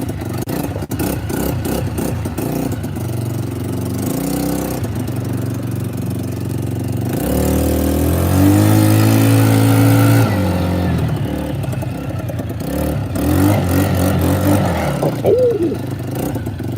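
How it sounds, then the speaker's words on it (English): A child's four-wheeler engine runs loud and close, with a steady buzzing idle that rises into a stronger revving surge midway through and then drops back again. No voices can be heard. "Child's four-wheeler."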